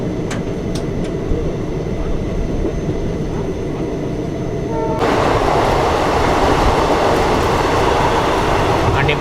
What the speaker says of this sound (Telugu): మనల్ని పుల్ చేసే లోకోమోటివ్ కనుకుంటే డీజిల్ లోకోమోటివే.